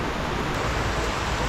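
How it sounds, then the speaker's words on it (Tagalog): Heavy rain pours down in a dense, steady hiss that fills the whole stretch without pause, close and loud, with no voices over it. "Sobra ng ulan."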